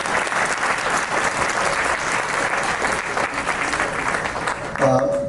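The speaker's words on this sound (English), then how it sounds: "let's give her a round of applause" A banquet audience applauds a singer with steady, dense clapping that fills the room, with crowd noise underneath and a brief voice near the end.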